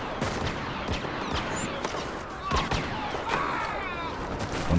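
Rapid gunfire in Star Wars Battlefront, a busy stream of sharp shots and blaster zips at mid distance, repeating irregularly throughout with some louder cracks.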